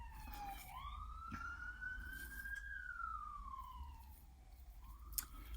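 A wailing emergency siren rises and falls steadily in the distance, fairly faint, with no talking over it.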